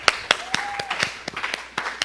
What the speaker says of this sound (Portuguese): Uma salva de palmas para Deus pela vida da Tia Aline.